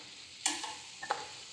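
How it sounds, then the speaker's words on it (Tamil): Turmeric powder is mixed into a coconut vegetable stir-fry: two quick, close spoon scrapes against the pan with a faint sizzle in an otherwise quiet moment. "இப்போ மஞ்சள் பொடி சேர்த்துட்டு நல்லா மிக்ஸ் பண்ணி விட்டுக்கலாம்."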